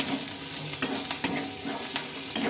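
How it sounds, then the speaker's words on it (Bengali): Onions stirred and fried in a pan, a soft continuous sizzle broken by several sharp scraping clicks of a spatula at irregular intervals. "এইভাবে এবার একটু আমি ভালোভাবে নেড়ে চেড়ে ভেজে নেবো"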